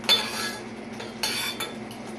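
A utensil scrapes and clinks against a pan while a caramel popcorn mixture is stirred, with two sharper bursts of scraping over a steady close hiss and no talking.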